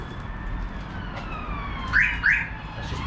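Two quick electronic chirps from a Starline smart car alarm disarming sound in succession, loud and close, over faint steady background noise.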